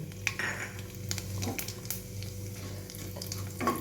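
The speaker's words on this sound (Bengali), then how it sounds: "আমি এখানে একটুখানি সাদা জিরার একটা শুকনো লঙ্কা ফোড়ন দিয়ে দিলাম" Cumin seeds and a dried red chili crackle as they temper in hot oil, a faint, steady sizzle with a few sharp pops and light clicks, close and quiet.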